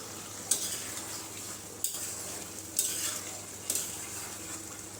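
Vegetables for a dry Bengali chorchori cook over a high gas flame, giving a steady close sizzle with four sharp scrapes of a spatula stirring the pan at intervals; no talking.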